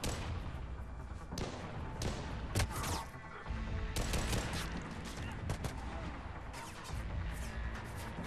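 Gunfire in the video game Mass Effect 3 on insanity difficulty, with dense bursts of rapid shots and heavy impacts crackling loudly over a continuous battle din, broken by short pauses.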